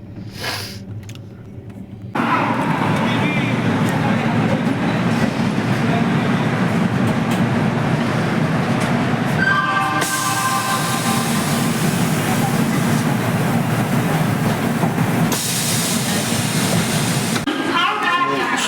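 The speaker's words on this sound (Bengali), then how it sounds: "436 কিলোমিটার অতিক্রম করে আমাদের ট্রেন ভুবনেশ্বর পৌঁছেছে।" The Howrah Chennai Mail, train 12839, pulls into Bhubaneswar station, heard from on board as a loud, continuous rumble and rattle of the carriages that stays steady for most of the stretch and eases briefly near the end.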